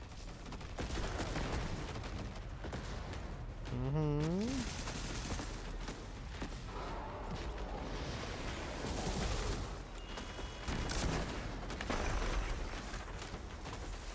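Rapid bursts of SMG gunfire in the video game Destiny 2, dense and continuous over loud explosive game action, with a voice talking over the top.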